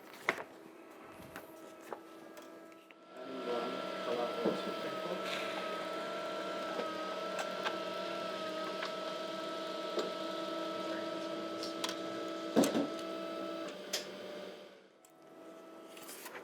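A printer runs steadily, printing a design onto toner transfer paper for a black cotton T-shirt, with a sustained mechanical whir and faint tonal hum lasting about twelve seconds before stopping, with no talking.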